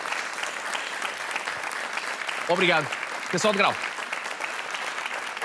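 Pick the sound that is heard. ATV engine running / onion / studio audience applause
studio audience applause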